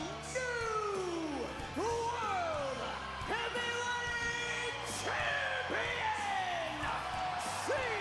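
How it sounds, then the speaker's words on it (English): Large arena crowd at a professional wrestling broadcast roaring and whooping loudly, with repeated rising shouts and yells swelling over a constant dense cheer. "The crowd is fantastic loud right now."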